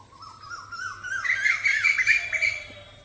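Kalduma and sakduma color pigeons, a Kolkata breed being sold, give a single rising, warbling call. The call is fairly close and clear, and there is no talk.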